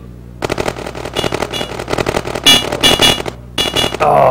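Rapid bursts of cannon fire in the Amiga game Bosari, played at the Amiwest Show 2013, crackling loud and continuous in short volleys with brief gaps, without any talk.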